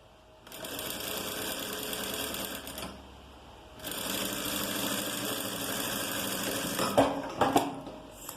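A domestic sewing machine with a standard presser foot whirs steadily in two long runs while stitching a garment seam at the shoulder and neckline. A short pause separates the runs, and a few clicks follow at the end.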